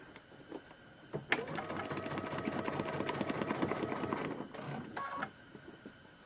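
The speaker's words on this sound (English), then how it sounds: "And sew a few stitches" Sewing machine stitching a paper-pieced prairie point for a trivet, a quiet start building to about three seconds of fast rhythmic whirring and needle clatter, then a few single stitches at the end.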